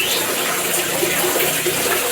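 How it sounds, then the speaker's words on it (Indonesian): Water runs steadily down over a motorcycle lamp during a leak test on a Honda Vario, a dense continuous splashing trickle close by with no talk. "Air dari situ turun."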